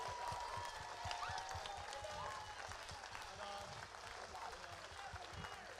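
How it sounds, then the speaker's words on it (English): An audience at an evening percussion concert applauds the thirteen graduating seniors of the class of 2025, a sustained wash of clapping with faint voices mixed underneath. "Big round of applause for our class of 2025."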